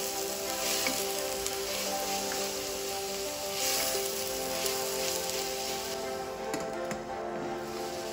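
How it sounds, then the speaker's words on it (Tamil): Three green chilies and a chopped tomato saute in a pan for a Nagercoil-style wheat rava mutton upma biriyani, giving a steady dense sizzle that holds continuously at close range, with a few faint stirring clicks and no talking. "கொஞ்சம் வதங்கட்டும்."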